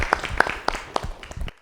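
Scattered audience applause from a small group, irregular claps spread over more than a second, moderately faint and ending abruptly.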